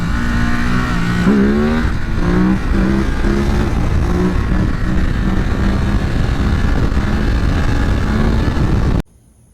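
A Ducati Supersport 950 motorcycle engine roars loudly and continuously as it revs up and down during a wheelie, close and dominant, then cuts off abruptly at the end.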